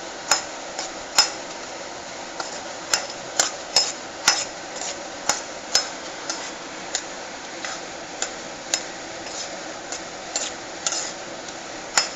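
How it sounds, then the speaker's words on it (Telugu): Cashew nuts fry in ghee in a pan for a ladoo, a steady low sizzle broken by regular sharp clicks and taps of a spoon stirring against the metal, close and with no talking. "వీటిని ఓన్లీ జీడిపప్పే వేస్తున్నాను అనమాట ఫ్రెండ్స్. నేను డ్రై ఫ్రూట్స్కి నెయ్యిలో ఫ్రై చేస్తున్నాను"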